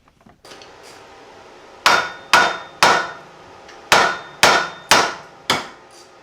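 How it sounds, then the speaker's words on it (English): Seven sharp hammer strikes ring out, loud and close, each with a brief metallic decay, spaced unevenly after a few faint knocks at the start. "This is a hammer."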